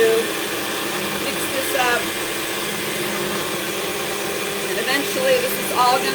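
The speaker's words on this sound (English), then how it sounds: "it's not terribly safe to stick your spatula down when the blender is going" A kitchen blender whirs steadily as it mixes ingredients in a home cooking session, a continuous motor drone running the whole time with faint talk over it.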